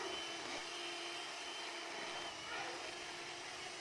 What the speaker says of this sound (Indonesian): Jika ingin lebih manis, kita mixer perlahan.